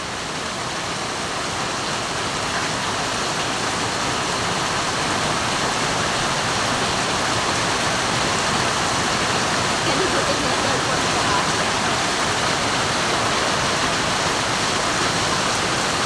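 Heavy typhoon rain from Typhoon Leon pours down in a dense, constant roar, loud and unbroken throughout, close to a hut on high ground.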